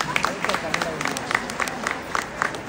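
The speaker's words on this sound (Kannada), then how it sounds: "ಕ್ಲ್ಯಾಪ್ ಮಾಡಿ" A crowd applauding at a women's empowerment event, scattered rhythmic claps rising and falling beneath a speaker's continuing voice.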